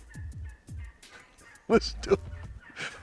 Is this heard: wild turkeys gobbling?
yes